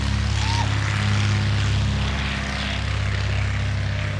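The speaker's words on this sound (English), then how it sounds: "Don't worry about the noise from the airplanes during our show." A steady, droning propeller airplane engine hums low and loud throughout at an airshow, continuous with no pauses.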